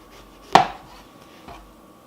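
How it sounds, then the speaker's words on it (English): A knife cuts the end off an eggplant in one sharp, close chop against a board, followed by a second fainter tap about a second later, in a quiet kitchen. "hold your eggplant in the middle nice and firmly and cut the butt off"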